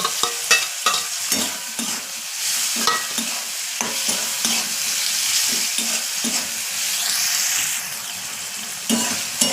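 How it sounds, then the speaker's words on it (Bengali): Onion and tomato fry in a pan with a constant hiss, and repeated scraping strokes sound close as they are stirred, no voices. "পেঁয়াজ টমেটো দিয়ে আমার প্রায় ভাজা হয়ে গেছে।"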